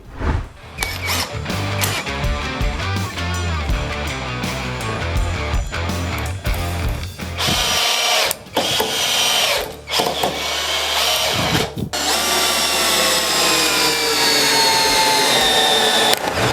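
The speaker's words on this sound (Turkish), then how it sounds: "Şimdi buradaki aksesuarlarla bir şeyler delip vidalayalım." A power drill whirs in repeated bursts, starting and stopping, then gives way to higher-pitched, longer runs as screws are driven, loud and close.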